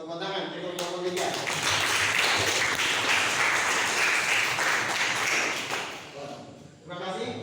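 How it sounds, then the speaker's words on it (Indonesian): A classroom of students claps for a group, with dense, sustained applause swelling for several seconds and then tapering off, a few voices faintly audible at the edges. "Tepuk tangan untuk kelompok 3."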